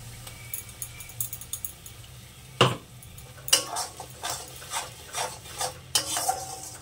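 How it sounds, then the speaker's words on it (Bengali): A spoon stirs spice paste with cumin paste and tomato paste in a pan, giving a series of scraping and clinking strokes over a faint sizzle, with a few sharper knocks against the pan. "এটাকে আমি বেশ খানিকক্ষণ কষে নেব"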